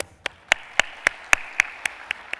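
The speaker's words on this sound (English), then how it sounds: "Let's welcome him with a very big round of applause." At a plenary debate session, sharp evenly spaced claps ring out about four per second, crisp and close, like one or a few people clapping in rhythm to welcome a speaker.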